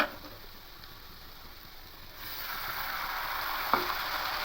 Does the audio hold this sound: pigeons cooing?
no